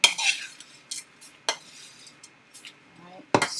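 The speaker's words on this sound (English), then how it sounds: "Alright, stir it again." Utensil scraping and clinking in a bowl of thick oatmeal cookie dough, a few short separate strokes with quiet gaps between them and a sharper scrape at the end.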